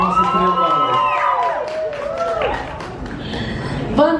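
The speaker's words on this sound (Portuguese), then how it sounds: "Uma salva de palmas para a nossa estrela." Audience at a Jequiti cosmetics event applauds and cheers for the star, a loud sustained crowd with whoops and excited voices layered over the clapping.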